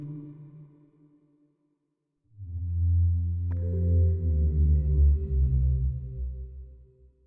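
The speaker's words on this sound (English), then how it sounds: "Discovered the whale sound after watching Finding Nemo." A low, sustained whale call from a cozy video game swells in after a brief pause, deep and resonant with a rising tonal sweep, alone without speech.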